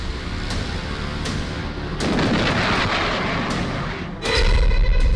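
Heavy explosions from a US air strike on Taliban positions: a series of deep booms and sharp blasts, with a louder rumbling detonation near the end, no voices present.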